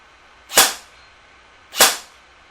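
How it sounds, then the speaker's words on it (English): Two sharp gunshots ring out at a shooting range, about a second apart, from a gun fitted with a Picatinny-mounted scope, each followed by a short decaying echo over near silence. "I'll go back to the range and I'll show what that looks like and fire a few shots"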